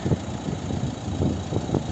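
A Renault Megane IV 1.5 dCi K9K diesel from 2017 with automatic transmission idles smoothly and quietly, a steady low rumble with soft periodic pulses throughout, close by and without talk.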